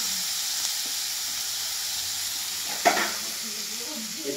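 Chicken pieces lightly frying in hot oil give a steady soft sizzling hiss, with a single clearer clatter or splatter partway through and faint stirring sounds.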